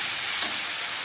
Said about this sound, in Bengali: সব দিয়ে মশলাটাকে ভালো করে কষিয়ে নিচ্ছি